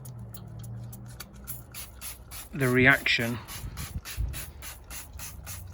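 Repeated quick squirts of fallout remover from a trigger spray bottle onto a Renault Wind in a steady rhythm, with a brief spoken phrase partway through.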